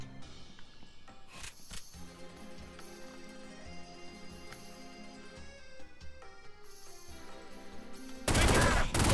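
Gunfire in the crime video game The Godfather, scattered sharp shots and a few bursts spread across a quieter in-game soundscape with music-like tones, ending in a loud, dense noisy burst.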